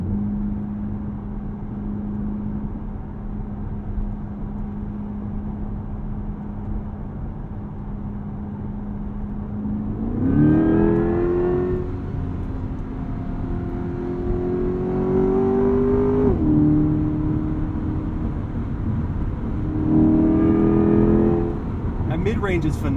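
A Chevy Corvette E-Ray hybrid with a front-axle electric motor and LT2 V8 accelerates, a low steady drone rising into loud revving pulls with climbing engine tones, heard from inside the cabin.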